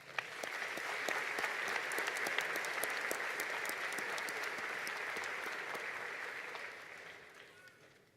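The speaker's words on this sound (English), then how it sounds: "I think this class certainly deserves a congratulatory round of applause" Applause for a graduating high school class at a spring graduation ceremony, a broad wash of many hands clapping that swells quickly, holds steady, then tapers off at the end, heard from a distance in a large hall.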